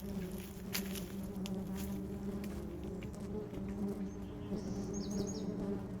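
Honey bees buzzing around a Flow Hive in California: a soft, continuous, droning hum from many insects, steady and fairly faint throughout, with a few light higher chirps over it.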